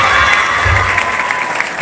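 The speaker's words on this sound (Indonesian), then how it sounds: "Tepuk tangan dulu." A room full of people, including children, claps and cheers in a dense, loud burst that holds steady for the whole short stretch.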